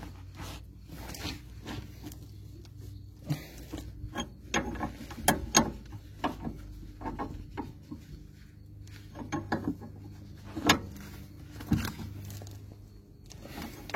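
A ratchet wrench works on a seized stabilizer bar link of a Touran, giving close, irregular bursts of sharp mechanical clicks with brief pauses between strokes and no talking.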